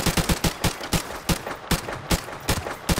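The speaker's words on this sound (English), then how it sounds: "What a gun battle that was" Rapid gunfire in Modern Warfare Remastered, loud close bursts of sharp shots in quick irregular clusters with brief gaps between, no talking.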